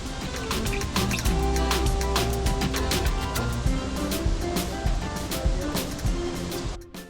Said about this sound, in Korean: 이곳에는 굉장히 큰 폭포가 있었어요